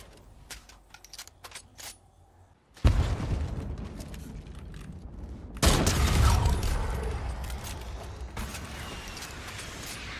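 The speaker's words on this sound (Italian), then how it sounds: "la Tommy Gun c'è forte in close" Rapid bursts of Tommy gun fire in Fortnite, with sharp cracks and heavy booms, starting sparse and then erupting into loud, dense volleys that continue to the end.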